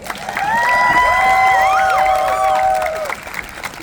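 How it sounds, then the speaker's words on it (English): A rally crowd at a rights and jobs protest cheers and claps, with several high sustained whoops and shouts over the applause, loud at first and fading slightly toward the end. "Everybody give yourself a big round of applause"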